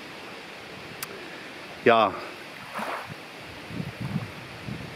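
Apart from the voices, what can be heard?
strong wind rustling trees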